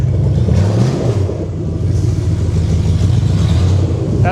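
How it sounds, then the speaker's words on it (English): A loud, deep V8 exhaust on a 1UZ-swapped Toyota farm truck rumbles and revs up close, a throaty engine roar that swells and settles with no voices. "I can't hear anything with this exhaust"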